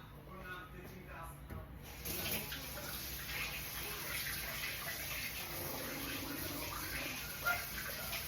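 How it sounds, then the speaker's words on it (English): Running tap water splashes over hands being washed in a kitchen while cooking plantain tortillas, a steady faint rush that swells after a brief quieter start, with no speech. "Let me wash my hands because I don't like the feeling of stickiness."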